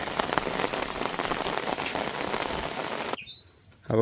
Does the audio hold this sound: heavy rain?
yes